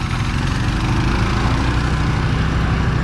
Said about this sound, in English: did you hear that engine picking up there?